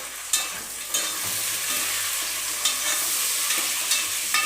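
Onions, green chillies and fresh peas frying in a pan for a fenugreek rice dish, a steady close sizzle with a spatula scraping and stirring at intervals.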